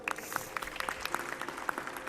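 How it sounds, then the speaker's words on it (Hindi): An audience at a yoga session claps for a participant, a quick, uneven patter of handclaps, moderately near and fairly soft. "एक बार मीनाक्षी जी के लिए भी जोरदार ताली बजा दो भाई"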